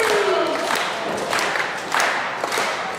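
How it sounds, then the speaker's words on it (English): A live pro wrestling crowd in Elmwood Park, New Jersey roars and cheers, with surges of shouts and scattered clapping rising and falling across a few seconds, fairly close and loud. "Once again, there's that crowd pumping him up"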